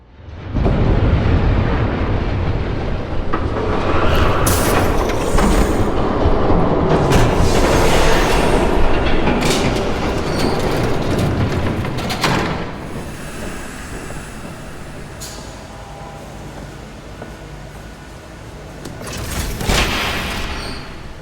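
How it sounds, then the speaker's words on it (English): A train thunders past in Batman: The Telltale Series as a loud, sustained rumbling roar with clattering bursts. It fades midway, then swells briefly again near the end, with no speech over it. "There's a train coming. Take cover."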